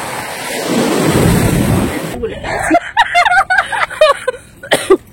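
Sea waves at RK Beach, Visakhapatnam, roaring in a loud, rushing surge for about two seconds before it drops away and people begin talking close by.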